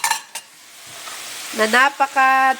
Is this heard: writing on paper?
no